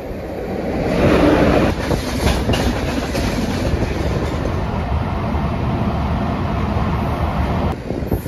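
A Vijayawada–Rajahmundry MEMU passenger train runs along the rails, a steady, loud rumble with rhythmic clickety-clack that continues throughout, with no voices.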